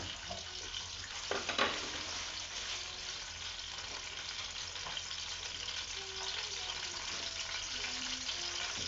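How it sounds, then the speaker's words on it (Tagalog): Sage and parsley sprigs fry briefly in a pan, giving a steady close crackling sizzle with a few utensil knocks early on and faint voices in the background. "yung sanga ng salvia, ng prezzemolo, at saka yung salvia. Iprito lang natin siya saglit."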